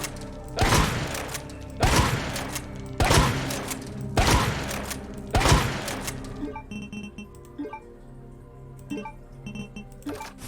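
Shotgun blasts from Resident Evil 2, five heavy booming shots at a steady pace, each followed by a short mechanical pump clack, then a stretch of quieter clicks and clinks of reloading.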